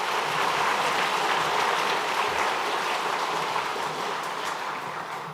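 A church congregation applauding together during a Sunday worship service, a steady, dense patter of many hands clapping that holds for several seconds and fades slightly at the end.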